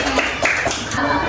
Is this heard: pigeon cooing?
no